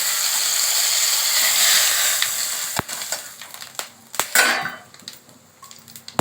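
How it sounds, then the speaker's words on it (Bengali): Cumin, bay leaf and dried chilli hit hot oil in a pan, starting with a loud, dense hiss that fades after a couple of seconds into crackles, sharp spatters and a few metallic knocks. "এবার আমি এতে জিরে তেজপাতা ও শুকনো লঙ্কা ফোড়ন দিলাম"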